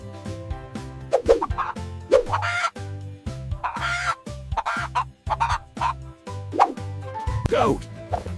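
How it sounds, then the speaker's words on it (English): Rooster crowing amid loud, rhythmic background music, with several bright bursts standing out over the steady beat. "Cock."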